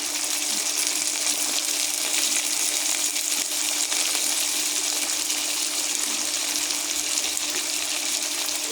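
Green peas fry in hot oil alongside reddening potatoes, a loud, continuous, dense sizzle that holds steady throughout with no talk.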